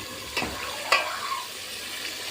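Meat being stirred in a hot pan on Eid morning, with a couple of distinct scraping stirs over a soft, steady sizzle of frying, close by and without talk.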